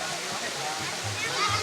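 The Curug Nagrag waterfall at the Cisarua hot springs pours in a steady, broad rushing hiss, with people talking over it.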